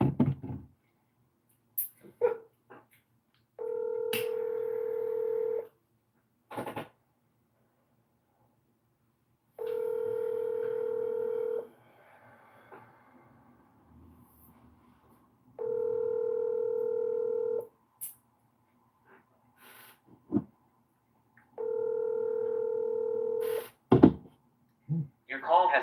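Telephone tones on a call being placed: four steady dial-tone bursts of about two seconds each, spaced evenly, with short keypad beeps scattered between them, heard clearly and alone.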